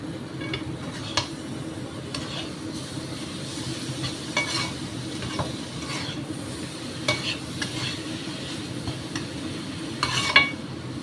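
Bombay duck fish fry with a handful of chopped coriander being stirred in a pan with the gas turned off: steady soft scraping and shuffling, with a few sharper clinks of utensil against pan.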